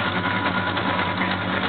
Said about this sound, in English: That's the exhaust leak.